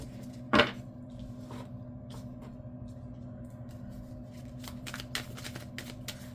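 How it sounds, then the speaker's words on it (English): Tarot cards being shuffled by hand, one sharp riffle near the start followed by soft intermittent card slides and taps over a low steady room hum, close up, with no talk. "I'm going to pull some tarot cards."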